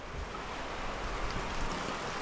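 Steady rain shower pours down over a farm in Hargeisa, Somaliland, a dense, even hiss filling the scene continuously with no voices.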